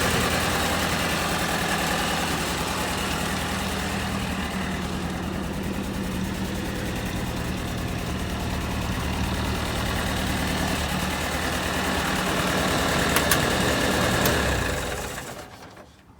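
An M151A2 military jeep engine idles with steady, close rumbling and a busy ticking, rattling driveline noise, holding evenly for most of the stretch before cutting off near the end.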